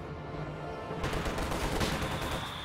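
DP machine guns fire in a World War II strategy game, with rapid rattling bursts that grow denser and louder midway, layered over a steady battlefield din.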